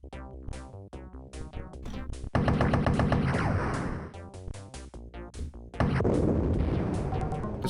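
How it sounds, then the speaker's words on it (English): A retro first-person shooter, Blake Stone: Planet Strike, fills the scene with loud, dense bursts of synthetic game gunfire and blasts, with a sharper louder surge partway through and another near the end. "That's the saddest looking explosion I've seen in a long time."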